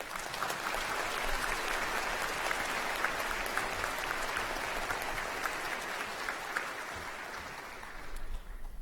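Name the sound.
applause at graduation ceremony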